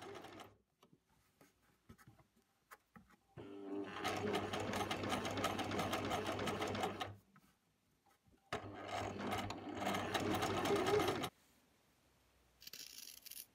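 A sewing machine stitches through all the layers of a blouse close to the previous seam, running in two long, steady whirring bursts separated by pauses, close and clear with no talk.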